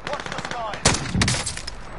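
Rapid MP7 gunfire in a video game, tight bursts of loud automatic shots crackling over faint background game sounds and a voice.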